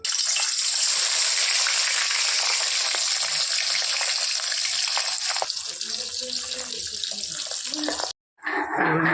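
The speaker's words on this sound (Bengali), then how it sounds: "এগুলো তেলের মধ্যে দিয়ে দিয়েছি ভেজে নেবো আমি ছিটে দেবো না মাছটা একবারে দিয়ে দেবো" Pabda fish fries in hot oil with a strong, continuous broadband hiss that thins out slightly and cuts off briefly near the end.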